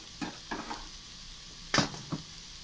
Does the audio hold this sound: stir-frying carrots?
yes